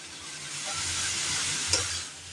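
Cabbage and masala curry being stirred in a pan, a steady broad sizzle with soft scraping of the spoon and one brief sharper clink near the end, close and even throughout.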